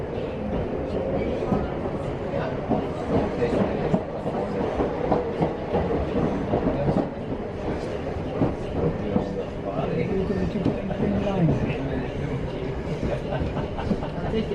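A rail tour train near Motherwell and Mossend runs onto the main line, with a steady rumble and a rhythmic clickety-clack of wheels heard from inside the carriage. Voices talk over the continuous noise.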